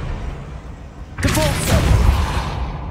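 Wingardium Leviosa spell firing in the Hogwarts Legacy video game: after a quiet rumbling bed, a sudden loud whooshing burst erupts and swells into a sustained magical roar with a brief rising tone.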